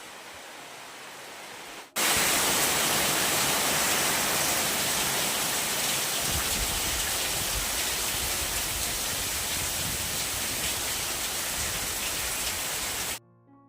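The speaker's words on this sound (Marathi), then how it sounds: "हा बघा पाऊस बघा सुरू झाला ना" Heavy rain pours down steadily in a dense, loud hiss that starts abruptly and holds constant for about eleven seconds before cutting off.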